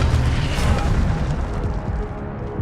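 An Incendio fire spell blasts in Hogwarts Legacy as a dense, loud, continuous roaring burst that fills the whole moment and slowly thins out toward the end, with no talk over it.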